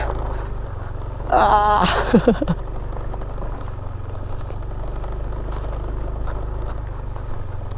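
Motorcycle ridden over a rough road toward Mapanuepe Lake in Zambales, with a steady low engine rumble throughout and a brief louder, higher-pitched burst early on.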